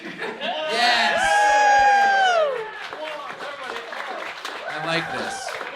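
A comedy show crowd breaks into clapping and cheering, with a voice shouting sustained tones over it at first, then looser scattered applause and laughter under talk.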